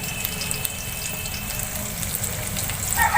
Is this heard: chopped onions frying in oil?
yes